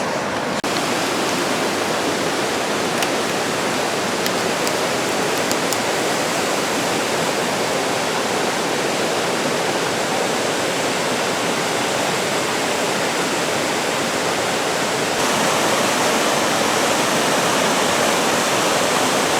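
Rushing stream water swirls loudly and steadily in a Pennsylvania canyon trout creek, a continuous close roar with no talking.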